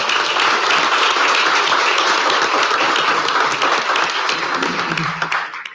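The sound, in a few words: round of applause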